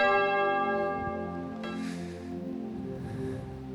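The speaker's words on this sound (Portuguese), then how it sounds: "Toca o sino, sacristão." A church bell rung by the sacristan during a Catholic retreat talk sounds loud and close, its long, shimmering tone ringing out with a fresh strike partway through and the hum slowly fading, with no voices.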